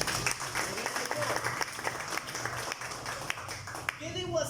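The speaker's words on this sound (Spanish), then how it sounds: "Vamos a dar un aplauso a ellos también." A church congregation applauds during an evening service, with steady dense clapping sustained for several seconds and voices talking over it before it thins out at the end.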